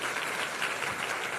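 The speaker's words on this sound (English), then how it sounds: "please give Mr. Chen a big round of applause for his exciting speech for us" Dense, steady applause from a crowd after a speech at a district conference in a main ballroom fills the whole moment, a continuous wash of clapping without pauses.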